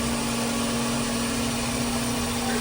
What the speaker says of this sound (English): I'm gonna try to do no pumps and just crank it to life.